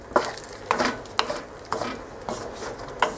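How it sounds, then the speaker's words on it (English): A spoon lightly stirs spaghetti sauce in a pot, giving a series of separate scraping knocks roughly every half second, close and moderately loud, with no talking. "Just a light stir like this every 5 minutes"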